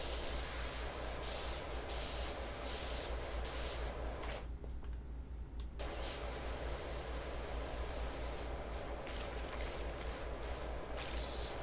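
Pressure washer spraying on a playground in the video game Power Wash Simulator: a continuous broad hiss of water jet, briefly cutting out once midway before resuming, with no voices.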